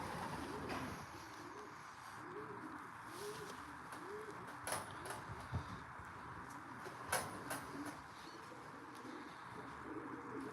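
Racing pigeons coming in to land at the loft, soft repeated cooing close by against quiet outdoor background, with a few faint flutters and knocks.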